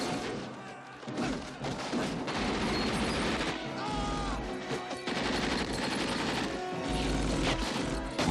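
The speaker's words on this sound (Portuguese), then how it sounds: "A submetralhadora Thompson, a Tommy Gun, era especial." Rapid bursts of automatic fire from a Thompson submachine gun, the Tommy Gun, crackle loud and dense in repeated volleys, mixed with booming thuds and a voice talking over parts of it.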